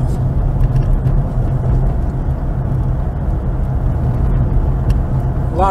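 Steady road traffic rolls past continuously along North Lake Drive near Lake Tobesofkee outside Macon, Georgia, a constant broadband hum of passing cars heard from inside a moving vehicle, with no talk.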